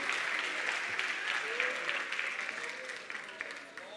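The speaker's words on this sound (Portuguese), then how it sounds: "Glórias a Ele, palmas a Ele para sempre" A church congregation claps steadily during a sermon, a close, busy patter of hands that fades slightly toward the end, with a voice faintly heard beneath it.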